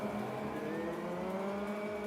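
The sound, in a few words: race car engines revving at race start, VRChat video game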